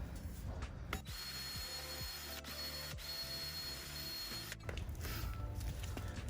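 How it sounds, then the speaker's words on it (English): A power wire brush scours a rusty front control arm bushing housing, a steady loud grinding whir broken by sharp periodic clicks and knocks as the bristles catch the metal, and no voices. "I already wire brushed this a little bit, but I want to have it a little more cleaner."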